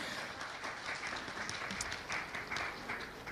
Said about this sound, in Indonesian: boleh tepuk tangan, luar biasa